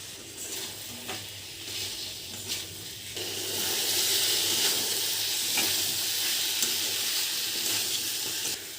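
Raw jackfruit and potato pieces fry in oil in a pan for a prawn curry, giving a steady close sizzle with occasional stirring scrapes. The hiss grows louder and brighter partway through.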